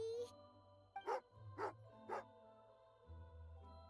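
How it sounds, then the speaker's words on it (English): Three sharp barks from a hunting dog named Tugarin in Genshin Impact, spaced about half a second apart, with low game music running steadily beneath. "Angry doggy."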